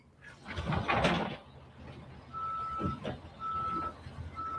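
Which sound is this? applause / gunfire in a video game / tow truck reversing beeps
tow truck reversing beeps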